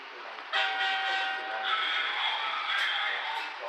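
A phone app plays a train horn sound effect beside a Lego city train set, a bright sustained synthetic horn blast that starts abruptly, holds steady for about three seconds and shifts pitch partway through, with faint voices in the background.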